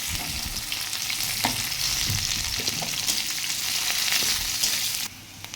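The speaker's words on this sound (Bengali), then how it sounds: "মাছ ভাজার তেলের মধ্যে 5 ফোড়ন, পেঁয়াজ কুচি, কাঁচা লঙ্কা দিয়ে ভালো করে ভেজে নেব।" Chopped onions, green chillies and five-spice seeds frying in oil left from frying fish, giving a loud, steady sizzle with occasional stirring scrapes.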